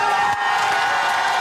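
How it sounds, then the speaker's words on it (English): A political caucus cheers and whoops loudly for MPs, a dense, high-pitched roar of many voices with some light clapping mixed in. It stays steady and close for a short burst. "With the caucus feeling so victorious, they cheered regular old MPs too"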